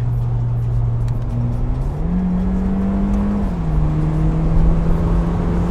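Low, steady aftermarket exhaust drone on a Lexus IS 300 heard from inside the car, its pitch shifting gently up and down as the engine idles and revs slightly, with no talking.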